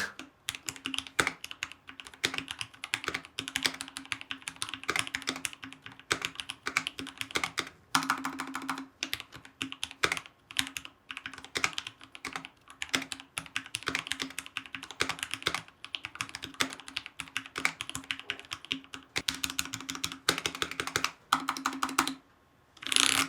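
Rapid clacky keystrokes on a Ranked N60 Nova mechanical keyboard, close and crisp, typed in quick bursts with brief pauses, no talking.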